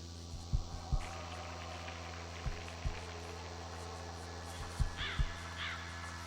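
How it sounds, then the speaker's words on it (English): Crow caws, a game sound effect from the Tree of Crows painting in The Lost Crown, come as several short separate calls in loose pairs over a steady low background hum. "Tree of Crows painting sounds like crows"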